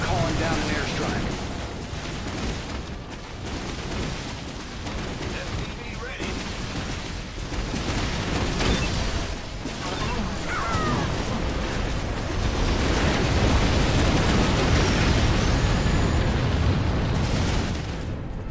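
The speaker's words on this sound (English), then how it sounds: "I'm calling down an airstrike" Airstrike explosions in StarCraft II co-op, a long rolling mass of booms and bursts that builds louder toward the end, with game voices and someone talking underneath.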